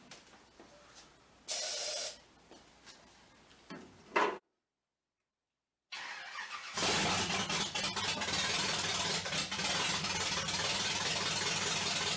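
A small-block Chevy V8 in a 1946 Chevrolet half-ton pickup, running with no exhaust fitted, cranks and then, after a brief gap, fires and settles into a loud, raw, steady idle close by.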